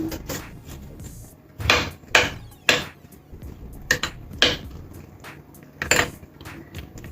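Garlic butter and oregano stirred together in a bowl for cheese garlic bread, a spoon scraping and clinking against the bowl in several sharp knocks spaced irregularly, close up with no talking.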